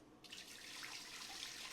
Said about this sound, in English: I'm going to take that 2 cups of chicken broth and add it right.